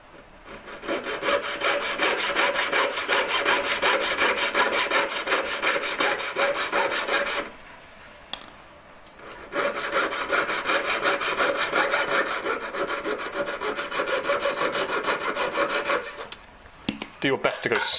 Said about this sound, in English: Do your best to go straight through it. You don't want to saw cut like that.